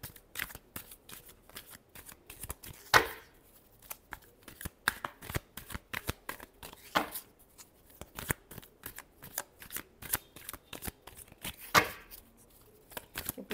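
A deck of tarot cards is shuffled up close, a long stream of quick papery riffles and flicks with brief pauses and a couple of sharper slaps, steady and moderately quiet, no voice.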